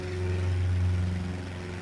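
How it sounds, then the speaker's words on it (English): A steady, droning piston engine of a Van's RV-14 aircraft in Microsoft Flight Simulator hums at a constant pitch with a raspy undertone, continuous and fairly loud throughout. "Listen to that piston engine."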